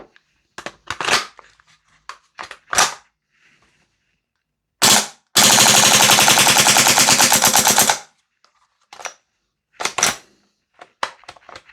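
A VFC G36C V2 gas blowback airsoft rifle (Umarex) fires loud, close shots: a few single cracks, then a sustained rapid full-auto burst of about three seconds, followed by more scattered single shots.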